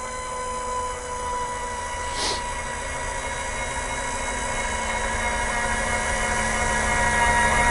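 An electric Harmar AL100 automatic mobility scooter lift raises its platform with a steady motor whine and hum that slowly grows louder, and one brief higher-pitched squeak cuts through early on.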